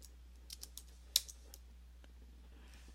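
Brief typing on a computer keyboard while working in a Telnet session, a short run of soft key clicks with one sharper tap, close and quiet over a steady low hum.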